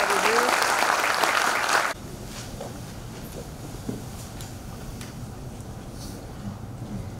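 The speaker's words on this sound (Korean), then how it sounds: "자, 박수 한번 보내주세요." Audience applause at a send-off ceremony for the Chungbuk team heading to the 105th National Sports Festival, a loud burst of clapping that stops abruptly after about two seconds, leaving quiet room noise with faint scattered sounds.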